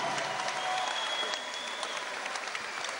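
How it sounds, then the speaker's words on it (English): Steady, dense applause from the crowd at a boxing match for a Commonwealth 130lb title bout, cheering both boxers after a fight stopped at the end of round 10; continuous and fairly loud with no voices. "Please give both boxers a big round of applause."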